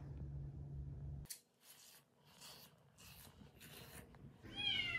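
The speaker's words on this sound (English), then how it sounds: "Can you guys hear him meowing?" A cat meows several times in short, faint cries spaced about half a second apart, after a low hum cuts out.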